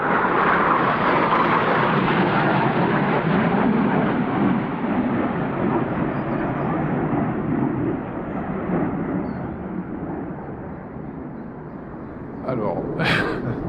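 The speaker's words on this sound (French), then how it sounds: "c'est la première fois que je vois des avions de chasse passer aussi bas" Fighter jets pass low overhead outdoors in the Brocéliande forest, a loud, broad roar that starts at full strength and slowly fades as they move away. A short rustle follows near the end.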